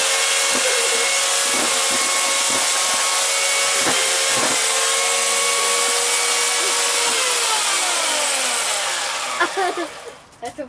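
A chainsaw roars loudly and continuously as it cuts into a Bart Simpson wrestling champion toy and helmet, its engine pitch shifting under load before cutting off near the end.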